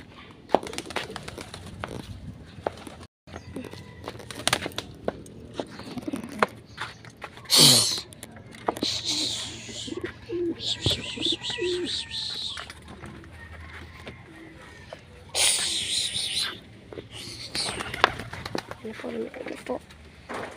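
Domestic pigeons, young birds, one blue bar and one checkered, coo in soft, low, repeated throaty calls close by. A person talks intermittently between and over the calls.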